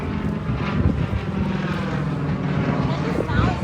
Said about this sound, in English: that's a radial engine.